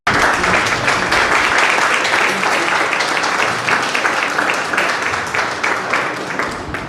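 An auditorium audience applauds in a dense, sustained round of clapping that stays loud throughout and tapers slightly toward the end, with no voices over it.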